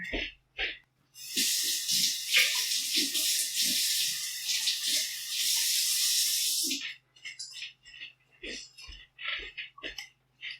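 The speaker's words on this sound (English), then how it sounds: "Added some water in these and sloshed them around so that all the tomato is in there, and then some extra water." Water poured from a tap into a pot of canned diced tomatoes, a steady bright splashing rush lasting several seconds before cutting off, followed by short sloshing and clinking bursts as the pot is swirled.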